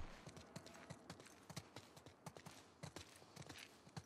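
Horse hooves clip-clop in The Last of Us Part II, a steady rhythmic series of moderately close hoofbeats with no talk, under a faint ambient game background.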